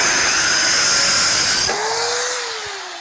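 A Hachinko mini circular saw cuts through thick material, a loud high whining buzz that suddenly drops off, leaving a falling motor tone as the blade spins down.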